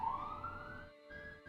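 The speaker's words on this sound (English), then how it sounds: "Fire trucks blazing past." Fire truck sirens passing by outside, a rising wailing tone that sweeps upward, briefly cuts out and resumes, heard moderately faint and distant with no talk over it.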